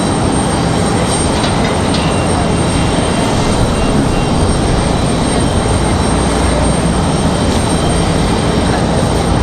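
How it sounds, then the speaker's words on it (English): American Airlines flight 1441 from Philadelphia arriving at Raleigh-Durham airport, a continuous loud jet roar that stays even and close throughout without any talk. "So it looks like we're going to have American Airlines 1441 coming in from Philadelphia"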